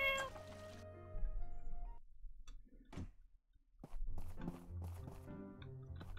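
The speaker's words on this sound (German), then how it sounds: "Katze, ey. Die Katze." Cat meowing in the life-sim video game My Time at Portia: a few clear meows with light footstep-like steps and game music around them, near and moderately loud.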